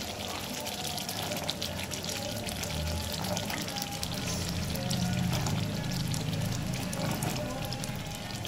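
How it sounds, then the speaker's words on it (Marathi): Green peas tipped into a hot, simmering masala gravy for matar paneer, producing a continuous close sizzle and rushing pour-like hiss over a low bubbling bed. "आता आपण ह्याच्यामध्ये ती मटार घेतलेली आहे ती मटार घालून घेऊया"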